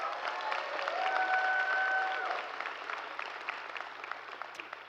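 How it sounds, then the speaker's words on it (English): Steady applause from a commencement audience honoring graduating students, a broad even wash of many hands clapping at moderate distance, holding for a few seconds before gradually thinning out, with faint crowd murmur and a brief tone partway through. "Let's give a huge round of applause to our graduates for achieving such a huge milestone."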